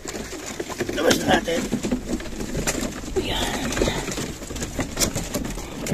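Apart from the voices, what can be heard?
pigeons cooing as they come out for training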